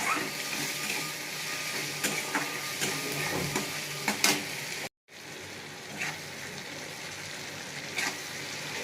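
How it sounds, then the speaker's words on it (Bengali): Onion and tomato with turmeric and chilli frying in a pan, a moderate continuous sizzle with intermittent clicks and scrapes of stirring, briefly cut by a short silent gap midway. "একটু ভাজা ভাজা করে নিয়েছি পেঁয়াজ আর টমেটো"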